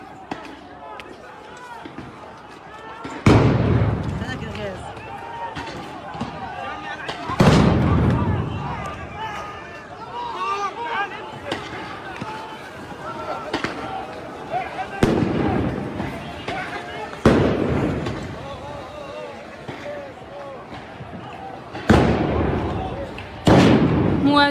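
Loud, sharp blasts of tear gas and stun grenades fired by occupation forces during clashes at Al-Aqsa Mosque. About six heavy bangs come at irregular intervals over a constant crowd din, with people talking and shouting throughout.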